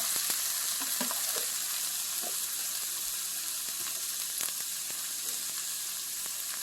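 Ginger garlic paste sizzles steadily in hot oil, a constant crackling hiss with occasional pops and a few light stirring scrapes.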